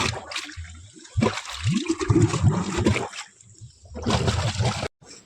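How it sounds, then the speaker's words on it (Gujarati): Canal water gushing through an opened valve on a farm, loud rushing and splashing in two strong surges separated by a quieter trickling lull, ending abruptly. "ફાઇનલી આપણે કેનાલનો વાલ ખોલ નાખ્યો જો પાણી ઉભારા મારે છે"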